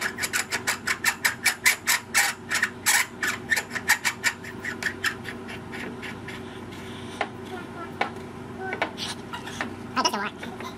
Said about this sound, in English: we're going to take this ring and tighten down on it